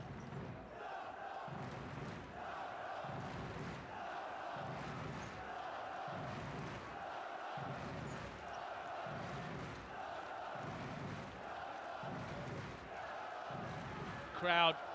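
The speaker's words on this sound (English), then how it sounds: "Crowd on their feet, cheering on their team." Arena crowd at a professional Basketball Champions League game, Stelmet Zielona Gora against AEK, on its feet roaring and chanting in steady rhythmic surges that swell and fall about every second, dense and sustained throughout.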